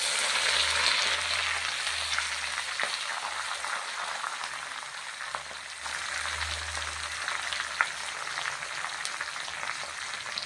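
Cumin, curry leaves, green chillies and drumstick leaves fry in hot oil for an egg curry, a steady loud sizzle and crackle with occasional pops and no talk.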